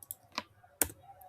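Two sharp clicks from a computer mouse and keyboard, separated by a short pause, close and fairly quiet, with no speech.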